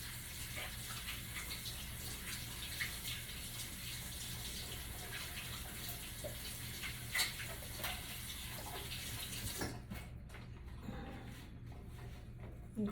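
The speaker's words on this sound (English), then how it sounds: "Let me wash my hands." Hands being washed under a running kitchen tap, a steady faint gush of water with small splashes that stops abruptly near the end.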